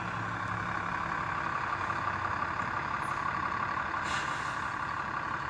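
A rare LFS bus, the first fitted with oil disc brakes, moves nearby with a steady engine drone and a couple of short high beeps, no voices present.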